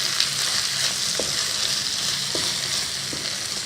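Gujarati biryani tossed with fresh coriander, mint and green chilies in a hot pot gives a steady close sizzle, broken by a few soft scraping stirs spaced across the few seconds, with no voices.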